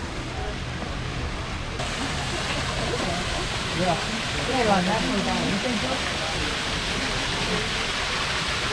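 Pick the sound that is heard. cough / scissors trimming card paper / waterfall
waterfall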